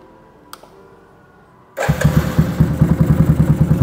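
A fully rebuilt custom motorcycle engine with a capsule-style aftermarket exhaust is electric-started after a quiet moment and a click, then settles into a loud, close, rhythmic idle with deep regular exhaust pulses.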